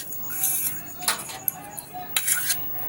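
Grated radish and salt being stirred together in a bowl with a spoon, with light scraping and clinking of utensil against the dish in a few short bursts, close and fairly quiet.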